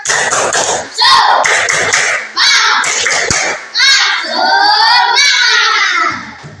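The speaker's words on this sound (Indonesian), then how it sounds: "untuk menambah semangat kita tepuk semangat dulu" A classroom of Indonesian schoolchildren shouts a rhythmic clapping chant in unison, loud phrases broken by brief gaps, the voices dominating over light hand claps.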